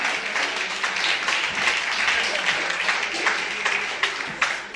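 A church congregation at a women's ministry gathering applauds and cheers, producing a dense, continuous wash of clapping and voices at steady volume throughout.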